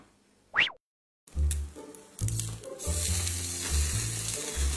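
Pieces of giant eel pan-frying in a hot pan, a loud, dense sizzle that erupts after a brief silence, with stirring clatter and scraping throughout.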